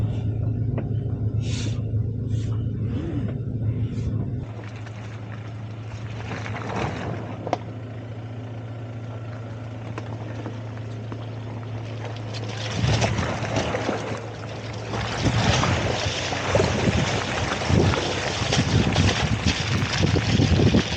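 A 2025 Toyota Tacoma i-FORCE MAX crawls off-road through mud, its low engine rumble droning steadily under wind buffeting, with louder churning and splashing bursts from the tires near the end.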